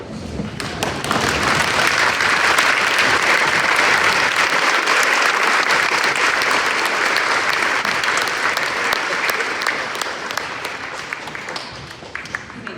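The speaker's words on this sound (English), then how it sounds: "give him another round of applause" Sustained applause from an audience at a Wayne Trace Jr/Sr High School Veterans Day program, loud dense clapping that builds quickly, holds, then thins out toward the end.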